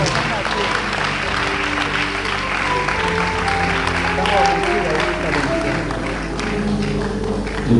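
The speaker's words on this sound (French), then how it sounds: "Est-ce que vous pouvez encore acclamer Jésus, le Seigneur, ce soir?" A church congregation at a wedding blessing breaks into loud, sustained applause and cheering, with dense clapping over murmured voices and some music in the background, continuing steadily throughout.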